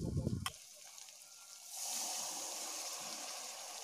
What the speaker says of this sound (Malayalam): എന്നിട്ട് നമുക്ക് അത് ചീനച്ചട്ടിയിലേക്ക് ആ വെള്ളം ഒഴിച്ചു കൊടുക്കാം.